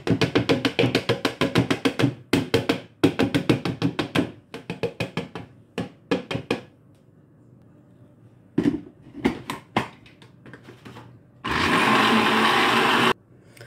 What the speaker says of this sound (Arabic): غادي ندوزو نطحنوه في الخلاط الكهربائي